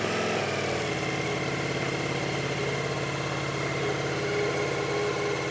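A 2021 Ducati Multistrada V4S motorcycle engine fires on a cold start and settles into a steady, close, loud idle with an even throbbing rumble, no talk over it.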